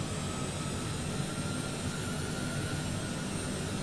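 Airbus A330 jet engines spooling under a small throttle input in a flight simulator, a dense, steady roar with a faint high whine, loud and unbroken with no voices.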